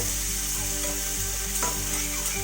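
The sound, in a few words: onions frying and being stirred in hot oil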